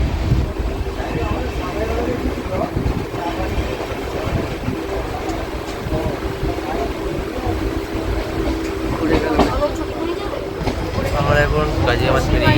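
Howrah Barmer Express train running along the tracks, a steady broadband rumble and rush with wind buffeting, continuous and fairly loud throughout, with a few brief louder clatters near the end.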